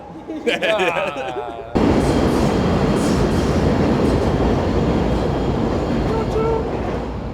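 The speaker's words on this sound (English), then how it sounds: "They don't have trains in the sky where I live." An elevated train in Chicago roars past close by, its loud rumble and rail clatter filling the air after a brief moment of voices.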